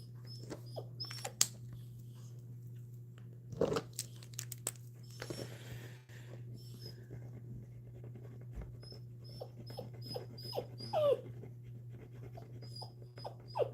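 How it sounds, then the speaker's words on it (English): A deaf four-month-old puppy perched on the back of a chair whines and whimpers in short, intermittent bursts with some panting, fairly close by over a steady low indoor hum, with no talking. "he's just whining"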